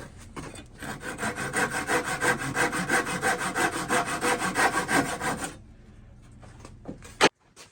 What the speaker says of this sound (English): I have to finish the cutoff with a handsaw